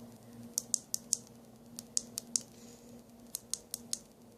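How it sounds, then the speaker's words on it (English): Buttons on a Chana V3 clone device click crisply in quick bunches, about a dozen sharp, close, fairly quiet clicks in two groups with a short pause between, over faint background noise. "The buttons, super clicky."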